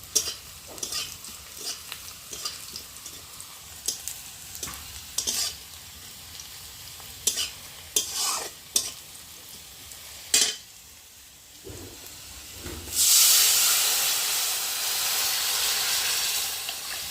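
Chapila fish frying in a pan: sharp utensil taps and stirring clinks come first, then a loud, steady sizzle and hiss of hot oil rises and carries on to the end.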